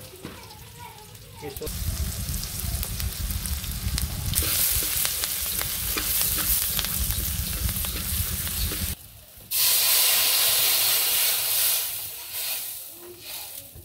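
Fish fries in a pan of hot oil, a loud, steady close sizzle and hiss that drops briefly and then surges back, with a voice speaking at times.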